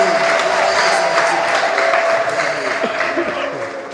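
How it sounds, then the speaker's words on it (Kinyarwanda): Applause and ululation from a concert audience at a gospel event in Kabgayi, a steady dense wash of clapping and trilling cheers that fades slightly toward the end. "mubanze mubashimire, mubaha amashyi menshi n'impundu"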